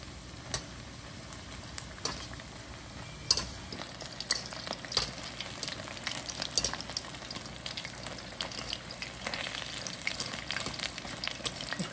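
Battered honey chicken pieces deep fry in oil, a soft steady bubbling crackle with scattered pops and occasional clinks, fairly faint and unbroken throughout.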